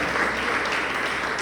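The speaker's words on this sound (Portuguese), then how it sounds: "Você pode aplaudir o Senhor?" A church congregation clapping together, a dense, steady wash of many hands applauding at close range without a break.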